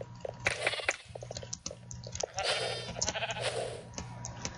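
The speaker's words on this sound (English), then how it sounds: "Let's get all the sheep we can." Sheep bleat repeatedly in a Minecraft Mineplex Sheep Quest match, several overlapping calls spread across the clip over chewing-like game noise, with no voices.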